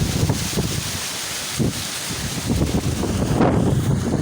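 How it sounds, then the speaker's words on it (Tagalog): Strong gusting wind roars and buffets the microphone, with a broad rushing noise rising and falling like surf nearby, no voices. "Lakas ng hangin."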